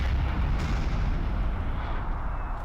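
Dense, continuous rumble of artillery cannon fire from 8-pounder and 6-pounder guns in the Napoleonic battle game Napoleon Total War, booming steadily with no clear gaps between shots.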